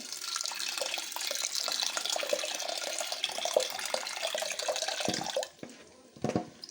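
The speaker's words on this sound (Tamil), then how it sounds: "தண்ணி சேர்த்துடலாம் இது கூட" Water pours steadily into a pot of ivy gourd for stir-fry, a continuous splashing rush that cuts off near the end, followed by a couple of soft clunks.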